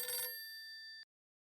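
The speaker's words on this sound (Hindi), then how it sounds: "फिर से फोन लगा। किसका फोन है जेठा?" A telephone gives a short electronic ring burst that sustains as a bright tone for about a second, then cuts off into silence.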